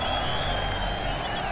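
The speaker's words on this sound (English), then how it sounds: "let us cheer him to show our appreciation" Crowd applause and cheering in the video game Road 96, greeting the president at a rally. A steady, dense wash of clapping holds for the whole short stretch, loud and close, with no clear talk over it.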